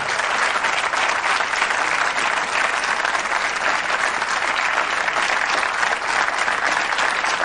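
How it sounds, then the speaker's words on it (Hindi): Studio audience applauding on the Kaun Banega Crorepati quiz show after a contestant's win: loud, sustained clapping from a full hall, even and unbroken from start to finish with no voices over it. "तालियां बजती रहें देवी और सज्जनों।"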